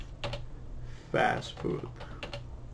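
Keys clatter on a computer keyboard as C++ code is typed, with quick bursts of clicks and one louder flurry in the middle, while a voice talks briefly over the typing.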